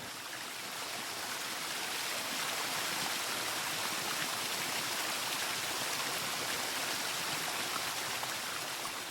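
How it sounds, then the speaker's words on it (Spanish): Water flowing steadily into a bay in the Ebro delta rice-field irrigation system, a constant broadband rushing and trickling wash that stays even and uninterrupted throughout, with no voices. "Estamos aportando agua en la bahía de la Encallizada de la comunidad de regantes"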